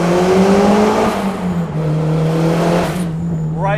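Turbocharged Mitsubishi Eclipse GSX making about 440 horsepower, its engine droning steadily and loudly under acceleration, with a rising whine near the end.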